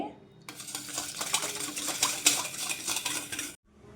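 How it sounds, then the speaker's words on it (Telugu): Salted buttermilk being churned by hand in a vessel: a steady, close scraping and swishing that runs for about three seconds, with small metallic clinks, then stops abruptly. "రుచికి సరిపడా సాల్ట్ వేసుకుని మజ్జిగని చిలుక్కోవాలండి"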